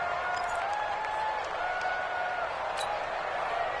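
Stadium crowd cheering and roaring in a PS4 American football video game ahead of a big third down, a steady sustained wash of noise at moderate level with no break.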